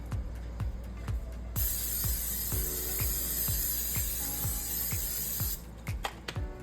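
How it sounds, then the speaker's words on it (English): Cooking spray from a can greasing a pan: one steady loud hiss lasting about four seconds, set against a rhythmic background beat. "then we're going to grease your pan."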